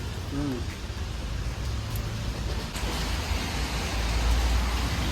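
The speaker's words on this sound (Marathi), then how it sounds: "मस्त पाऊस येतोय" Rain falls in a steady, even hiss, with a brief voice at the start and a low rumble underneath.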